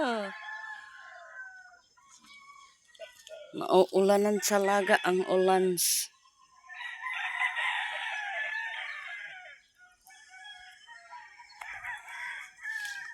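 Backyard chickens around okra plants after days of rain, with a rooster crowing loudly for a couple of seconds mid-clip between softer clucks and calls, while a person talks before and after.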